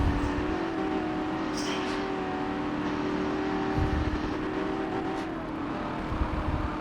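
Car engine in the Forza racing video game, a steady droning hum with sustained engine tones and slight pitch shifts, continuous throughout at moderate level.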